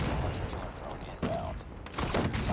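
Gunfire in the mobile shooter Call of Duty Mobile during a multiplayer match, a few loud bursts and shots over a dense background of game noise, with someone talking.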